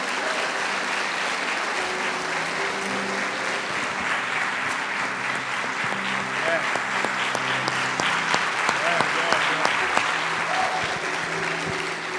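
Congregation at an evangelical church service applauding in a sustained, dense wash of clapping, loud and steady with a few voices mixed in beneath.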